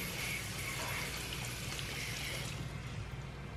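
Water trickles and pours steadily while roses are being watered, a constant soft hiss that fades a little toward the end, with no voices.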